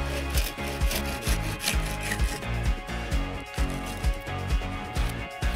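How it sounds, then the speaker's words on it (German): Hand saw cutting straight through a wooden peg on a bushcraft bench built from natural materials outdoors, a steady rhythm of rasping back-and-forth strokes, close and loud, with no talking. "Jetzt säge ich den hier einmal so schön gerade ab."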